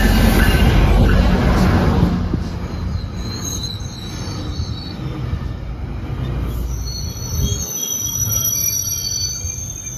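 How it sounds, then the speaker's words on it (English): A GO commuter train rolls into the platform with loud, high-pitched wheel squeals and a rumbling roar that gradually fades as it slows. "here is our train arriving right now."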